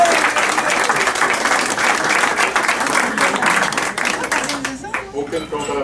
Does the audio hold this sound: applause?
yes